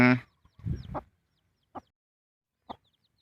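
Newly hatched fighting-cock chicks of a Jakrin and P. Wut bloodline, part of a clutch of eleven, give a few short, soft cheeps and clucks in a quiet spot, spaced apart after a brief louder opening noise.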